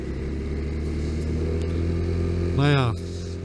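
A Vespa scooter rides along with a steady, loud engine drone throughout, rising briefly into a sharper rev near the end before settling back; no one speaks.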